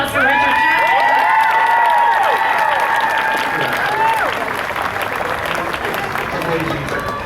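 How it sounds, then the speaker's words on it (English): A large audience at Disneyland's 60th anniversary rededication applauds and cheers for Richard Sherman, loud and close, with whoops and shouted voices riding over the clapping before it gradually tapers. "So please a round of applause for Richard Sherman."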